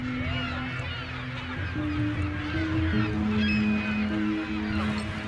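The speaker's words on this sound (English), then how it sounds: "The clumsy young pelicans haven't learned how to fly yet." Flock of young, still flightless pelicans at Great Salt Lake calling continuously, a dense overlapping chorus of honking, goose-like cries with steady tonal calls running throughout.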